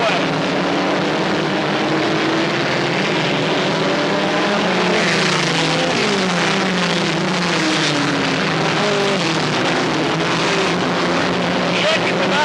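Race cars, among them a Chevrolet Camaro, roar down the back straightaway, engines droning loud and continuous with rising and falling pitch as they pass, under a race commentator talking throughout.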